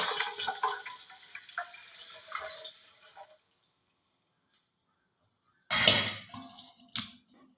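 Water pours into rice for beef biryani for a few seconds, fading out, then after a silent gap two short splashing bursts follow, close and fairly quiet.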